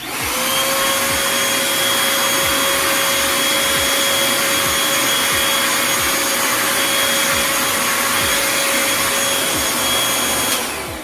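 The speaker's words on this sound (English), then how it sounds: "So I'm gonna turn on the vacuum cleaner again." A cordless vacuum cleaner runs steadily with a loud, constant whine and airy roar, close by, switching off at the end.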